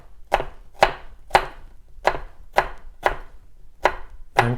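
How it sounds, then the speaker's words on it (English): A knife dicing an onion on a cutting board, eight crisp evenly spaced chops, each a sharp close thud with a brief crunch, with quiet gaps between strokes. "and cut around the root, and then repeat for the remaining half."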